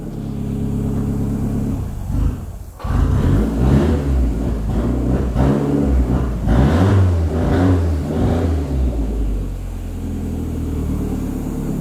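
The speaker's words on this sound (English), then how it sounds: "Give it one more rev." A rebuilt YB engine in a Ford Sierra RS Cosworth Sapphire revs hard, climbing and falling in repeated surges with a brief dip near the start, loud and close with no talking.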